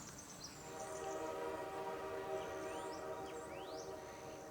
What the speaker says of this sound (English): the train, you hear it?